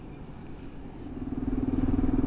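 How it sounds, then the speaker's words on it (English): A Kawasaki KLR motorcycle rides along in late autumn near Yanchep, Western Australia, its engine a steady low drone that swells and grows louder toward the end, with no voices over it. "we'll get back on the bike and head home."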